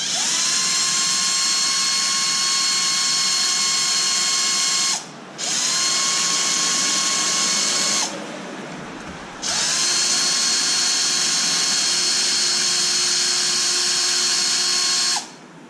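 A power drill removing shock bolts on a Traxxas Wide Maxx 4S RC truck kit, whining loud and close in three long bursts that spin up and cut off, with no talk.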